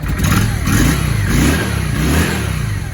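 A Honda VRX400 roadster with a three-valve V-twin engine and original exhaust pipes, running again after fifteen years unused, revs loudly and close up in uneven pulsing surges.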